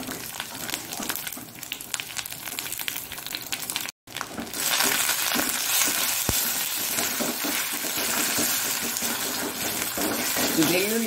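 Curry leaves and garlic frying in tempering oil for a Mangalore-style colocasia stem curry, a close, continuous crackling sizzle with a brief gap and occasional stirring clinks, a voice talking over it.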